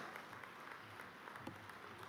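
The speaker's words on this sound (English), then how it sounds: "Please give a big round of applause." Audience applause at a university convocation ceremony, a faint, steady patter of clapping from a distant crowd in a large hall.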